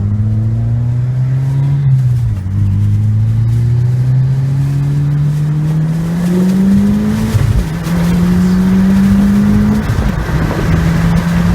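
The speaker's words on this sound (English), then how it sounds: "First gear pull." A Mitsubishi Lancer Evolution VIII engine revs hard in first gear and climbs in pitch, loud and close inside the car, with brief dips at shifts before pulling up again.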